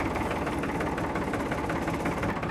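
A tractor engine runs steadily with a low, dense rumble and vibration, loud and close, with no voices over it.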